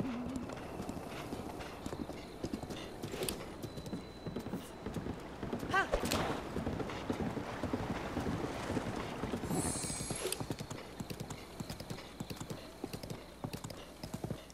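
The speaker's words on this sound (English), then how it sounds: "I do like riding the horse." A horse trots along in the Zelda Breath of the Wild video game, its hooves clip-clopping in a steady rhythm amid game wind and ambience, with a quick chime and a brief rushing sound partway through.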